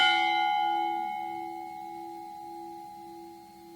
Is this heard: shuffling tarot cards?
no